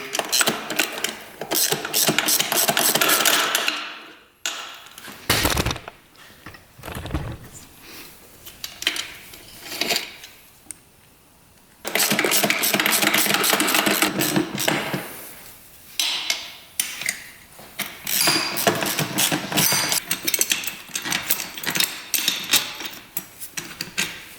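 Tools work on a dirt bike to take off a mount, giving rapid mechanical ratcheting and whirring bursts, loud and close, broken by pauses, metallic knocks and clanks.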